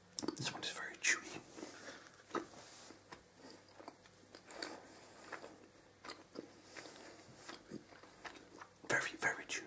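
Soft chewing of chewy food close to the microphone in a quiet whispered roleplay setting, irregular moist bites and mouth sounds with faint whispering between them.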